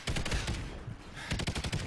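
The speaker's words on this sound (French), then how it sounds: "Le minigun il fait un bruit mais vraiment horrible" Two bursts of rapid, rattling minigun fire from Call of Duty: Ghosts, loud and continuous, separated by a short pause.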